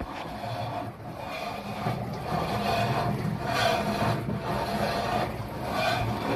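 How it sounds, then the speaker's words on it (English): A GE washer running with a loud scraping fault, giving a steady rough grinding rasp that swells and eases in a slow repeating cycle, close and continuous with no speech. "we've got a GE washer making a loud scraping noise, which is common."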